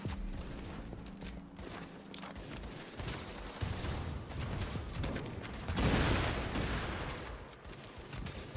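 Gunfire in Tom Clancy's The Division, a steady dense barrage of shots and rattling bursts that swells louder toward the middle and stays continuous throughout.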